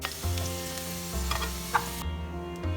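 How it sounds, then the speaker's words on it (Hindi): Potatoes frying in cooking oil on a medium flame for cabbage sabji crackle with a steady sizzle, broken by a few clinks and scrapes of stirring before the sound cuts off abruptly near the end. "अभी हम आलू फ्राई कर लेंगे। फ्लेम मीडियम पे ही रखें।"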